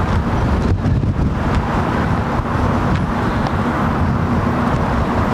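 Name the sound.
blustery wind on microphone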